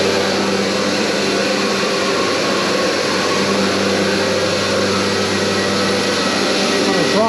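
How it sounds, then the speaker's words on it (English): A vacuum hold-down pump for drawing plywood down on a machine table runs with a loud, steady droning hum that never changes. "Okay, we're going to turn our vacuum hold downs on."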